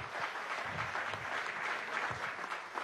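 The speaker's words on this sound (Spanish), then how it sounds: "Un aplauso para decir, es Santos Amaral" Applause from an audience at a national journalism award ceremony, a steady, even clapping with a few louder individual claps standing out, no one speaking.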